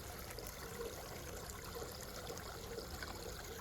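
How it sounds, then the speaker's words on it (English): Fast-flowing river rushing and trickling steadily, a constant, faint, even wash of water with small bubbling details and no talk. "it's a pretty fast flowing river"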